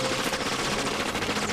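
Rapid Tommy gun fire from Batman: The Animated Series, a dense, continuous burst of automatic shots that fills the whole moment at steady loudness.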